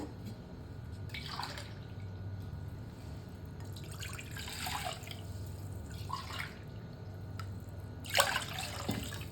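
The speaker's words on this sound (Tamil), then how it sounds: "தண்ணி 2 டம்ளர் தண்ணி ஊற்றிக்கலாங்க." Water splashes and trickles into a pot on the stove in short bursts, with a steady low hum in the background.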